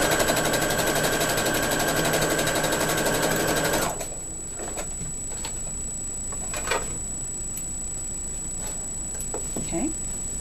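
Steady fast whirring stitch of a sewing machine sewing quilted coasters runs loud and close for about four seconds, then stops, leaving quiet room tone with faint handling clicks and rustles.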